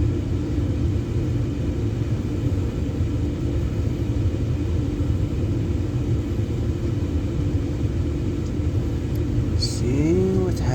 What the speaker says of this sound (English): See, the blower is turning on.